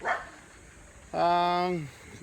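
A dog lets out one drawn-out, whining bark just under a second long, close and fairly loud, with brief quiet sounds on either side.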